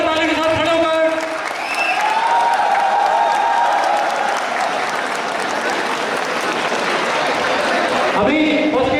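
A large crowd of students at a college freshers' event applauds loudly for nine seconds, with dense sustained clapping, cheering and overlapping voices throughout.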